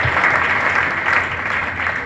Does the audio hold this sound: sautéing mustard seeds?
no